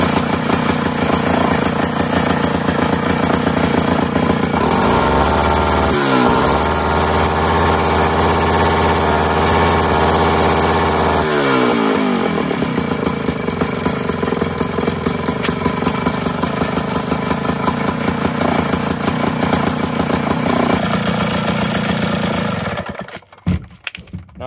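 A Jiffy two-stroke ice auger engine runs loud and steady for over twenty seconds, its pitch shifting as it revs and settles into idle before cutting off abruptly near the end.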